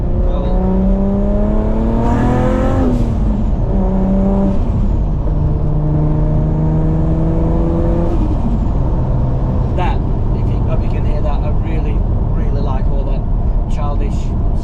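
A Nissan R34 GTR fitted with an externally gated wastegate revs hard: loud, close engine tones climb and fall several times, then give way to sharp, sputtering bursts and chatter as the revs drop.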